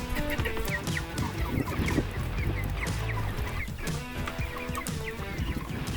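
Red Ranger meat chickens cluck and squawk steadily while eating feed, a dense, close chorus of many birds running throughout with no talk.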